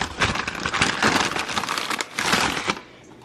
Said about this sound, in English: I'm gonna roll it out.